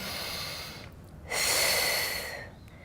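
Heavy breathing from someone holding a Pilates position: a long loud exhale, a short pause, then another strong breath out, close and alone.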